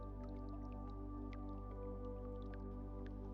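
Water drops fall one after another in an irregular patter of small, soft plinks, heard over a steady, low humming drone in a calm meditation setting, with no talking.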